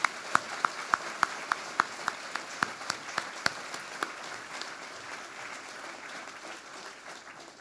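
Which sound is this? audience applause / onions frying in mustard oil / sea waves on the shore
audience applause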